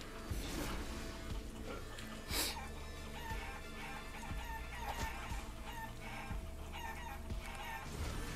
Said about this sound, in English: this fucking chicken sucks